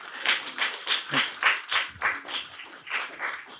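A small audience at a Japanese AI aesthetics research meeting claps for the backstage staff, a rhythmic run of fairly close, roughly regular bursts of hand claps from a modest group.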